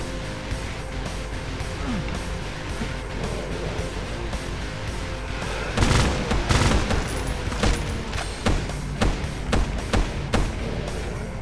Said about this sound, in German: Gott, wird hart geschossen.